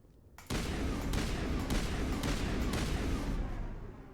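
Heavy gunfire erupts abruptly in the Mass Effect video game, a dense burst of rapid shots and blasts that keeps up for several seconds, then thins out toward the end.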